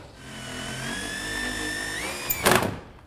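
A power drill drives a 38mm high-thread screw through plasterboard into a timber stud. The motor whines steadily and its pitch rises near the end, followed by a short burst of louder clatter as the screw seats.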